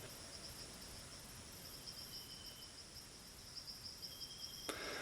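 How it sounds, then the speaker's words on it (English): A night-singing insect with a scratchier, less sweet song than tree crickets keeps up a steady high buzzing trill, faint and continuous against a quiet outdoor background, with a brief click near the end. "Another night, I hear another insect singing."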